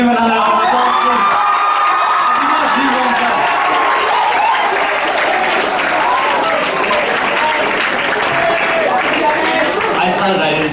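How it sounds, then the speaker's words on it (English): Sustained applause and cheering from a large audience at a model UN closing ceremony, with whoops and shouts rising over steady, loud clapping throughout. "Can we give him another round of applause, please?"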